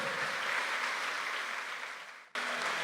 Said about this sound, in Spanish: Dale ese aplauso fuerte a Cristo, pues.